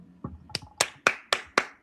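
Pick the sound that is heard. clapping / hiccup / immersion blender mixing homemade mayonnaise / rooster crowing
clapping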